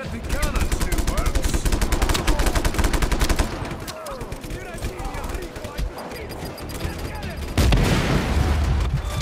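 Cannons firing in the video game Just Cause 3, heard as rapid repeated booming blasts and gunfire bursts that fill the scene loudly, followed by scattered explosions and a sudden heavy burst near the end, while players talk over it.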